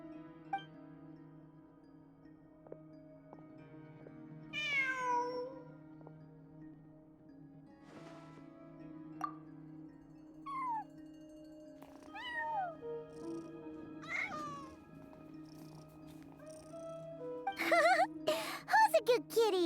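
A cat meows a few times in a video game side quest, with game dialogue voices and soft background music; a brief jingling burst comes near the end.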